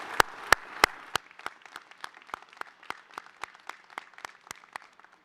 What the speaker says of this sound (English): please stand so that we can give you a round of applause for everything you have done for them